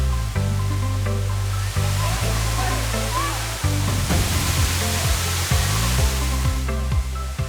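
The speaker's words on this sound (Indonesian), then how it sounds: "Serta suara riak air yang jatuh menjadi simfoni yang pas untuk menenangkan pikiran." A waterfall in Kampar sends falling water crashing steadily into a pool, a loud, continuous rushing wash with splashy texture throughout, and no voices over it.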